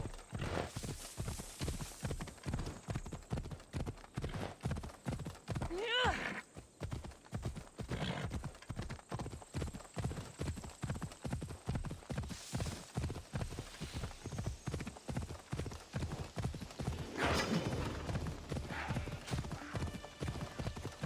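Horse hooves clip-clop steadily while riding in Assassin's Creed Odyssey, a continuous walking rhythm with occasional whinnies and snorts over a soft game ambience.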